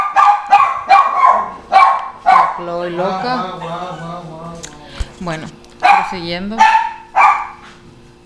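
A dog indoors lets out a run of sharp, loud barks in quick bursts, followed by a longer whining, howling bark, while someone talks in Spanish between and over them.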